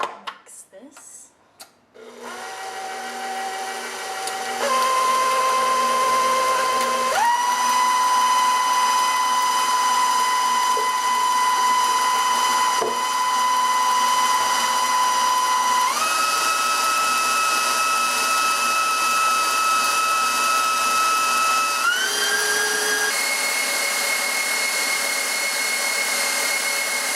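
An electric mixer whirs steadily through chocolate ganache filling, its pitch stepping up several times as the speed is raised, loud and continuous for nearly half a minute after a few brief knocks at the start.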